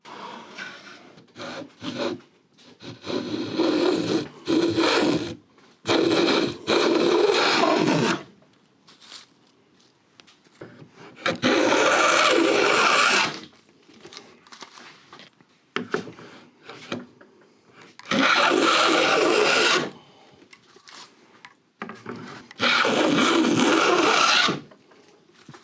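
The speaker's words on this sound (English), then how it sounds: "that's the groove cut, and you know when you're finished because you can go through the groove without taking a shaving" Antique plough plane cutting a 12mm groove in beech wood, close rasping strokes repeated in bursts of a second or two, separated by quiet pauses as the plane is drawn back.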